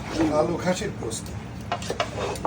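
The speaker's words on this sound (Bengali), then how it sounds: "আমি আর রূপা আপু দুইজন মিলে মশলা দিচ্ছি সরিষার তেলে দেখো" Spices sizzling in hot mustard oil for a goat curry, a moderate frying hiss with utensil clinks and stirring, heard under ongoing talk.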